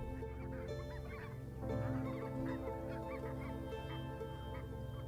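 Geese and other wild birds call and honk continuously from a distance near a sandbar in the Canadian north, a dense, overlapping chorus over steady background noise with no voices.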